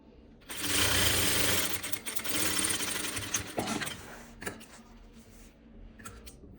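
A sewing machine runs a 1 cm seam joining two pieces of palazzo trousers, its motor buzzing steadily and loudly up close for a few seconds, then slowing into short bursts and stops.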